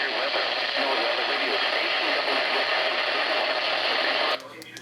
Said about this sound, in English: I just heard WXJ31's severe weather ID for the first time.